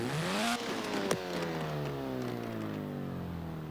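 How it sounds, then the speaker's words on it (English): A Fiat X 1/9 inline-four engine in Forza Horizon 4 revs sharply, then drops and settles into a steady, buzzy drone that slowly winds down, heard up close with no talk. "let's hear the noise of the engine"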